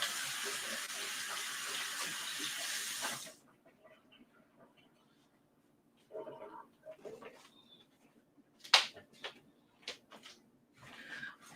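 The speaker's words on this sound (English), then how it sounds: "Let me wash my hands for a second." Water runs from a kitchen tap for a few seconds as hands are washed, a steady close rush that stops abruptly, followed by quiet handling noises and clicks.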